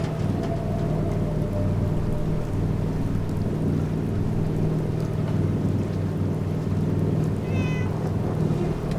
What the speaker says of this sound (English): Is there a cat?